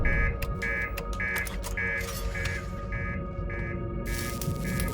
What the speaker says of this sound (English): reactor alarm.